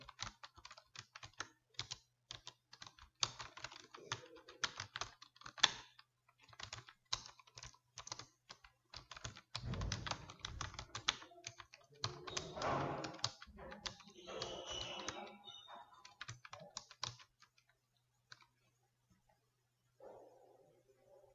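Computer keyboard keys clatter in quick bursts of typing, close and clear, with a brief pause, and the typing stops near the end.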